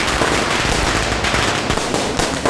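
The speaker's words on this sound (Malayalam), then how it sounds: "അതെ, പടക്കൊക്കെ പൊട്ടുണ്ടല്ലോ" Firecrackers burst in a rapid, continuous crackling barrage at moderate loudness, dense overlapping pops with no pauses across the stretch.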